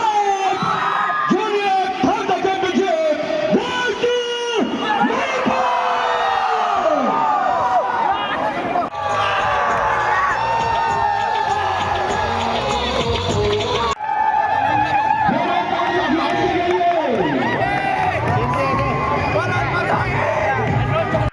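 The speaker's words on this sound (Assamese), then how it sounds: "পদক জয় কৰি কৰ্মবীৰ নবীন চন্দ্ৰ বৰদলৈ ইনডোৰ ষ্টেডিয়ামত খেলুৱৈসকলে কৰিলে বিজয় উল্লাস" Crowd in an indoor stadium cheering and whooping as junior Thang-Ta championship players celebrate their medal wins, loud continuous excited shouting and babble with brief cutaways, voices overlapping throughout.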